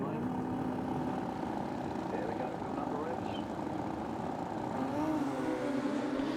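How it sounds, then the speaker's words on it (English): Superbikes at Santa Pod Raceway drag racing launch off the start line, one doing a wheel stand, with a steady engine roar and a rising rev toward the end, under continuous commentary. "Eddie with a wheel stand off the start line"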